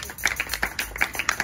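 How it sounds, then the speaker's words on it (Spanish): Church congregation applauding together during a sermon, a short burst of scattered hand claps with an irregular patter, moderately close and fairly quiet. "El aplauso al Señor, hermano"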